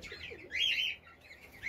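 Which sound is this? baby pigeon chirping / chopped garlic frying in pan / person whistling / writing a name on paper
baby pigeon chirping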